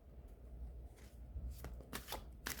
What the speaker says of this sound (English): Let's get this shuffled here.